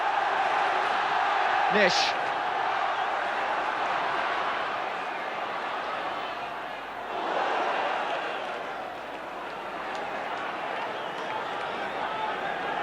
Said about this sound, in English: Listen to this Derby crowd as the players ask for the 10 yards from the defender